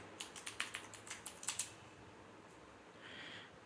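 Quick, light keystrokes on a computer keyboard as an administrator password is entered, about a dozen close taps in an uneven burst lasting just over a second, then near silence with a faint soft hiss; no voices.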